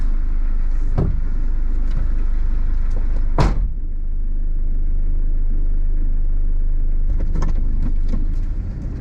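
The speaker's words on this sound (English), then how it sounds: "You can hear the car idling if you want." A Mitsubishi Delica L400 van engine idles close by with a steady low rumble throughout, with a few sharp knocks and clicks over it and no speech.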